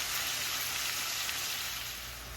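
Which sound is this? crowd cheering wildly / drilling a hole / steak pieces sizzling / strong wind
steak pieces sizzling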